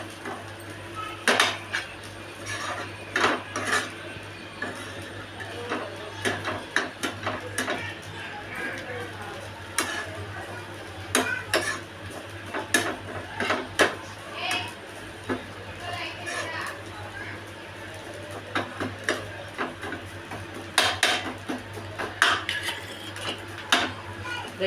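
Grated fresh coconut is stirred in a pan with a spoon, giving steady scraping and sharp irregular clicks against the metal, with faint voices in the background.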